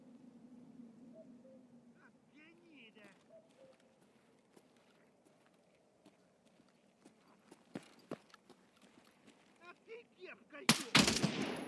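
Mounted gun firing in a shooter video game, scattered sharp distant shots and bursts over a quiet ambient bed, building to a loud close burst near the end.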